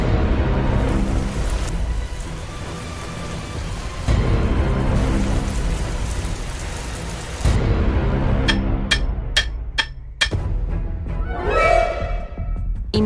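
Rain falling in a Roblox Brookhaven game scene, a dense steady hiss that cuts out and resumes in sections, with a few clicks and a short rising tone near the end.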